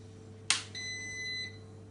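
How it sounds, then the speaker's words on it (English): A Morphy Richards Power Steam Elite pressurised steam generator gives a single sharp click and then a steady electronic beep lasting under a second when switched on, heard close and alone over a low background hum. "it does make a beeping sound when you do turn it on"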